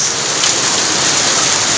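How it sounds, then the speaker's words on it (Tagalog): Heavy rain pours in a dense, steady hiss, loud and close, with no voices over it. "Ang lakas ng ulan guys."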